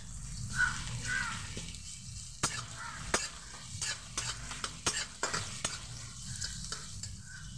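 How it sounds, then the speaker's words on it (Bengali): Finely chopped onion frying in a pan, a soft sizzle broken by frequent sharp clinks and scrapes of a spatula stirring against the metal, fairly quiet and close. "পেঁয়াজটাকে একটু ভেজে নেব"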